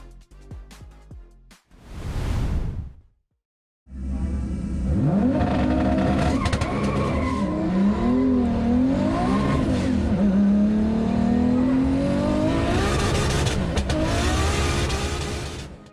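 A high-revving petrol car engine capable of 9000 RPM and 1800 horsepower starts after a brief burst, then holds a loud, rising and falling rev with a strong droning tone for several seconds before tapering off.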